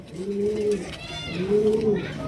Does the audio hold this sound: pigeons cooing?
yes